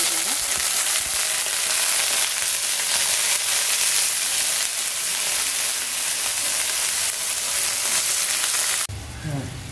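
Chopped banana stem sizzles in hot oil tempered with mustard seeds and urad dal, a loud continuous frying hiss that cuts off abruptly near the end into quieter kitchen noise.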